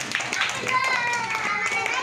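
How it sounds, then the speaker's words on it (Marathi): Scattered hand claps patter irregularly amid a lively crowd during a learning-through-play activity, with people talking and calling out over the applause. "टाळ्या वाजवा जोरात"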